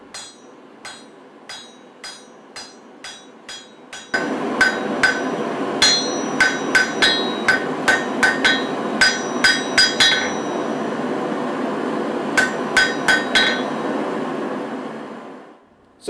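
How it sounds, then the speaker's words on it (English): A hammer strikes a hot Damascus steel knife blank to cut the point for a Japanese marking knife, landing sharp, ringing blows in a steady rhythm, at first alone and then over a loud continuous roar. "Now I'll hot cut the blank to form the point"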